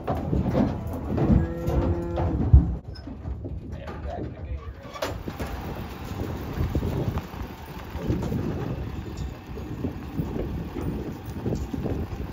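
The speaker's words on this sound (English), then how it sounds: "Calf from a place the cowboys worked yesterday is heading to Scott's for a new life on a nurse cow." A single drawn-out moo from cattle at a new loading area by a creek rises near the start, then fades into wind buffeting the microphone and scattered speech.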